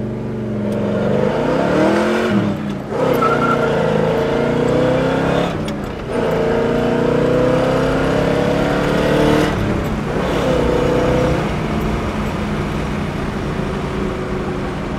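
A 1971 Chevrolet Chevelle SS with a 600-horsepower engine roars loudly from inside, revving high through several gear shifts with brief dips between pulls.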